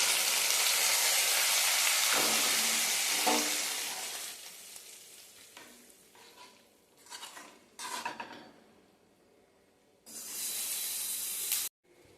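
Curry leaves dropped into hot oil for a carrot curry burst into a loud, dense sizzle that fades, followed by scattered clinks and stirring of a pan, then a final brief rush of spattering.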